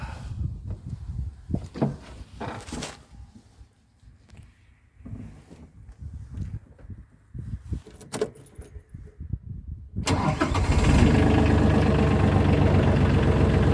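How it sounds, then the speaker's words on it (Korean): A bean threshing machine's engine is started at a hillside farm: keys jangle and rattle for about ten seconds, then the engine catches and settles into a loud, steady low rumble to the end. "자 한번 시동을 걸어 보겠습니다."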